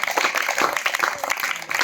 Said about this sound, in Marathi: टाळ्या वाजूया आपण कमलेश निकम आणि त्यांच्या मित्रांसाठी